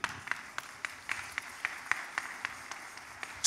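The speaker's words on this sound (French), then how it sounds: "Applaudissons pour le Seigneur." Church congregation clapping together in a steady rhythmic beat, about three claps per second, heard from a distance and fairly quiet.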